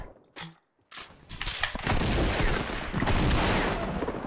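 Double barrel shotgun blasts in Fortnite Battle Royale, a couple of sharp shots up front followed by dense, continuous loud gunfire and impacts, with no talking.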